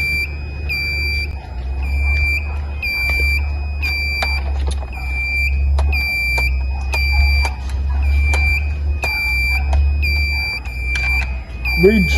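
Steering console alarm on a ship's bridge, beeping in a steady repeating pattern of high tones over a low engine rumble, with voices talking alongside.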